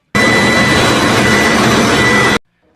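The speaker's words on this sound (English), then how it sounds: "may have been testing the last stage engine of an ICBM" Steady, roaring blast of a North Korean ICBM final-stage rocket engine during a ground test firing, loud and continuous for about two seconds before cutting off abruptly into silence.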